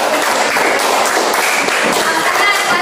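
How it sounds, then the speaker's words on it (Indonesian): Applause in a grade 4 and 5 classroom: dense, steady clapping from many hands fills the space for a few seconds, with children's voices mixed in underneath. "beri tepuk tangan atas kelas"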